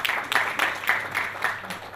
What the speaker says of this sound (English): Put your round of applause.